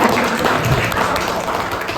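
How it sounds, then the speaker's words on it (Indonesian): Teachers and participants at a school literacy training session give a loud, dense round of applause, steady and close throughout without a pause. "Tepuk tangan untuk kita semuanya."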